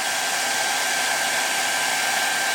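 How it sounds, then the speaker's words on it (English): A hair dryer blows steadily and loudly at close range, drying the contrast paint undercoat on a Warhammer 40k Space Marine miniature, a constant whooshing hiss with no break and no talking. "I'm just going to use a hairdryer just to quickly help to dry this up just a little bit faster"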